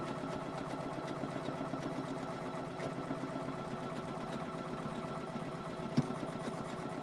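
A Poolin EOC06 single needle embroidery machine runs at a steady, even pace, its fast rhythmic stitching hum continuous and close throughout, with one brief sharper click near the end.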